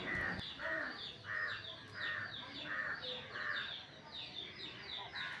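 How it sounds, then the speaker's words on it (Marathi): Crows caw over and over in a steady rhythm, with other birds calling alongside, fairly close and outdoors. "सकाळच्या वेळेला तर पक्ष्यांचा आवाज तुम्हाला येतच असेल"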